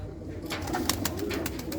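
A pigeon of a fine imported breed coos in a loft, with low repeated coos close by alongside sharp clicks and rustling.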